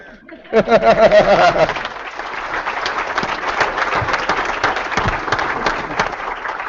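Applause from a virtual town hall audience, with a burst of laughter and voices at the start before it settles into steady, dense clapping that carries on to the end.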